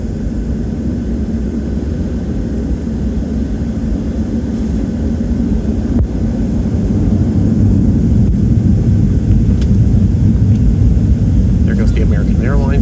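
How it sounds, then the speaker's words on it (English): Heard from inside another jet on the taxiway at Phoenix Sky Harbor, an American Airlines plane rolls down the runway, its engines a loud, steady low roar that builds slightly, mixed with cabin hum. "there goes the American Airlines plane"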